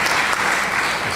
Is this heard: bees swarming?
no